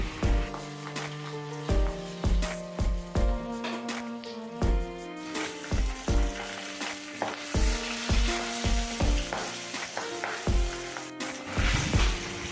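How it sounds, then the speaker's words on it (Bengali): Pabda fish fry one after another in oil in a pan over low flame with a continuous close sizzle and spatter. A rhythmic, tonal pulsing runs beneath it throughout, and no one speaks. "এভাবে একে একে সমস্ত মাছগুলো লাল লাল করে ভেজে নিচ্ছি"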